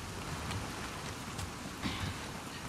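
Constant hissing rain falls in The Last of Us Part 2, a dense, even wash of drops with faint low rumbling beneath, quiet and unbroken throughout.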